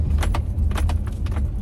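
A car drives over bumps while a flimsy car-mounted tripod rattles and jangles in quick bursts above a steady low road rumble. The sound is close and loud, with no voices.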